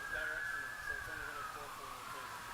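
Police car sirens pass by in the distance, a faint wailing tone that slides downward in pitch as the cars move away under steady background noise.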